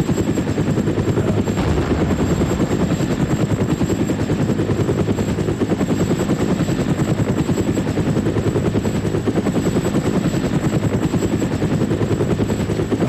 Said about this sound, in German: ich bin halt in den Hubschrauber eingestiegen, losgeflogen